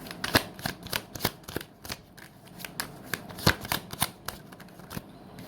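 Tarot cards are shuffled close up in a loose series of crisp, papery snaps and flicks, irregular but continuous over several seconds, with no talk.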